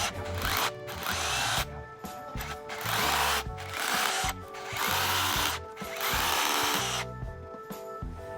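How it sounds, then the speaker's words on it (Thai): A Pumpkin cordless rotary hammer drill runs in repeated bursts, loud and close, with short pauses between each run and a rattling, hammering buzz. "สว่านโรตารี่สามระบบขันได้เจาะได้กระแทกได้ค่ะ"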